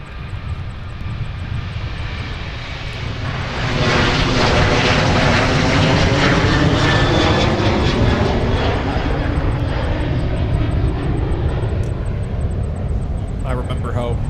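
A Sun Country Boeing 737-800 jet departs Minneapolis–St. Paul airport. Its engines roar loud and steady for a sustained stretch as it builds and holds thrust, with talk heard over the noise.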